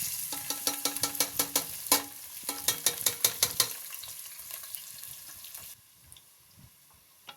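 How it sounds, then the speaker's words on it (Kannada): Crackling sizzle with rapid sharp pops and clinks in quick bursts as fennel, bay leaf, curry leaves and onion hit hot oil in a pressure cooker, then quieter frying that fades toward the end. "ಒಗ್ಗರಣೆಗೆ ಬೇಕಾಗಿರುವ ಸ್ವಲ್ಪ ಸೋಂಪು, ಬೇ ಲೀಫು, ಕರ್ಬೇವಿನ ಸೊಪ್ಪು ಮತ್ತು ಈರುಳ್ಳಿನ ನಾವು ಕುಕ್ಕರ್ಗೆ ಹಾಕಬೇಕು"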